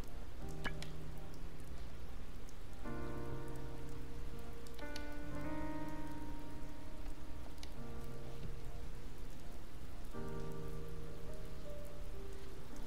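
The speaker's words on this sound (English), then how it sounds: "We'll go ahead and save while it's raining on poor Hinako." Steady rain falls across a scene in the video game Blue Reflection, a constant even hiss under layered game music with repeating tonal chords, with no talk.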